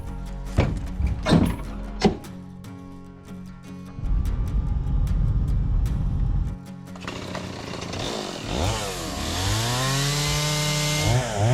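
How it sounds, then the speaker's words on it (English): Heavy-duty chainsaw cutting cedar logs to size on Yakushima in Japan: knocks and thunks of wood, then a loud close saw buzz biting into timber, rising and falling in pitch as the chain loads and revs. "He fires up the chainsaw to cut them down to size"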